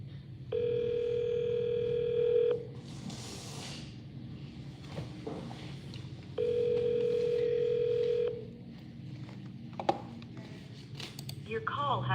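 A telephone call's ringback tone sounds twice, each steady tone lasting about two seconds with a long pause between, over faint background noise and movement.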